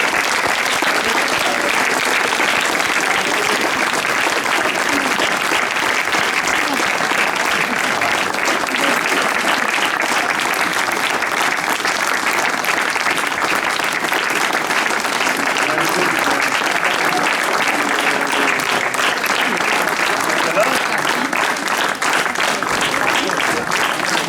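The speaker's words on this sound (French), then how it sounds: "Maintenant, je vous invite à applaudir tous les comédiens avec qui vous avez traversé les siècles." Sustained applause from a theatre audience after a historical theatrical walk in Gerpinnes, steady and dense clapping from a sizeable crowd for the whole stretch, with a faint murmur of voices underneath.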